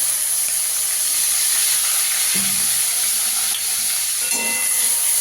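Onion paste with whole cumin seeds frying in a pan for egg korma, giving a constant close hiss with a couple of brief clinks partway through.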